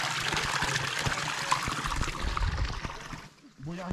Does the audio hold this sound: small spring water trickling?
yes